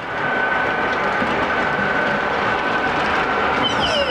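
Steady rumbling and clattering of small trains running on a track, a continuous mechanical whir with faint ticking, no voices.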